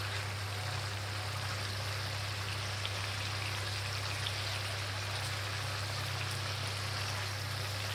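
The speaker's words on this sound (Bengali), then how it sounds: "বাইরে এখনো বৃষ্টি পড়ছে।" Rain falling outside, a steady soft patter with a constant low hum beneath it.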